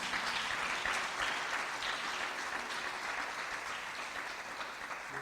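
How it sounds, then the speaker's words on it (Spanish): Congregation at a Spanish-language sermon applauding, a sustained even wash of many hands clapping throughout, moderately loud and free of speech. "Dar un aplauso a Jesucristo."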